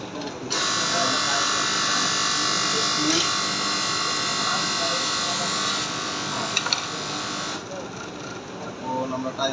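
A sewing machine, mid-timing adjustment on a fetlock-type machine, runs a steady zigzag stitch with a continuous dense whir throughout, briefly easing near the end, while a person talks over it.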